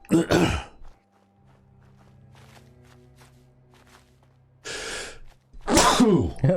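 A man with spring allergies lets out a loud, close sneeze. A quiet stretch of low game ambience follows, then two more forceful, breathy bursts close together near the end.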